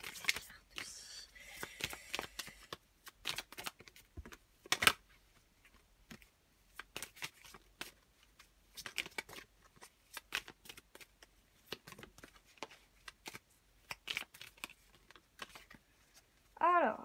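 Tarot cards are shuffled and dealt out close up, giving soft rustling flicks and light slaps in irregular bursts with brief quiet gaps.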